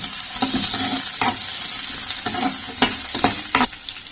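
Two coarsely cut onions frying in hot oil for a paneer masala curry, with a continuous bright sizzle and several sharp stirring knocks and scrapes, heard close with no talk.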